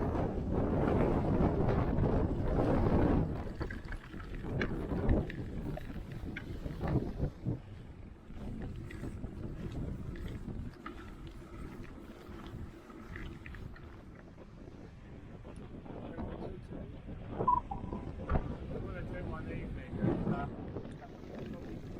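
Strong seaside wind buffeting the microphone at Holland-on-Sea, a steady rumbling roar with gusty surges, loudest at the start and easing later.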